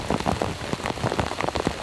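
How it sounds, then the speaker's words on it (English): Heavy rain from Hurricane Ian pours down in a dense, steady hiss of close drops striking a surface, with no voices. "Rain like this, man, or gals, it's perfect."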